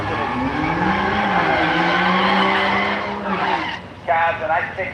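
A drag racing car launches at the Street Machine Drag Challenge, an 8-second car reaching about 162 mph, its loud sustained engine roar rising in pitch with tire squeal, fading slightly before a second burst near the end.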